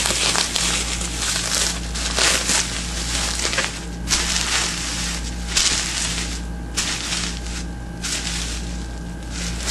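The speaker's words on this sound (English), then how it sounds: "This is excessive bubble wrapping." Excess bubble wrap packaging is handled up close, giving a continuous loud crinkling and crunching rustle over a low background hum, with no talking.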